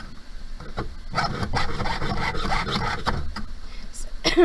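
Close, steady rasping strokes come from a jeweler's saw cutting a metal pendant on a bench pin with a worn blade, running for a few seconds before easing off near the end.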